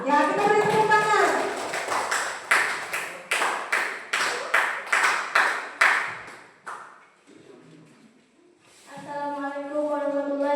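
A group of students claps together in a classroom, a run of sharp, evenly spaced claps in unison that stops abruptly, with voices talking before and after.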